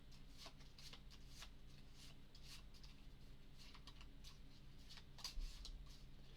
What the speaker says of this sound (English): so we'll shuffle these.